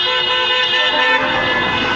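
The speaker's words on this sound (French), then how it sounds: "Écoutez ce concert klaxon, vraiment c'est incroyable." Many car horns blare at once at a motorway toll booth during a protest, a loud sustained chorus of overlapping honks over traffic noise that runs unbroken from start to finish.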